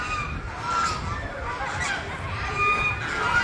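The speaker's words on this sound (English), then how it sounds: "Look at all those geese." Geese honking in a crowded poultry barn at a state fair, a steady chorus of overlapping calls and clucks at moderate level, with faint voices mixed in.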